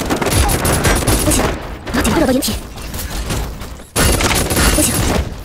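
Rapid bursts of gunfire rattle in the mecha battle-royale game Super Mecha Champions, loud and dense, broken by short pauses, with a voice speaking briefly over it.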